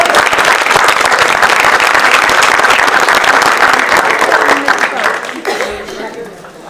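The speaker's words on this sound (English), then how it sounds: "we'll give them one big round" Loud, steady applause from a board of education meeting audience for honorees called to the front, dense clapping that tapers off near the end as voices and chatter emerge.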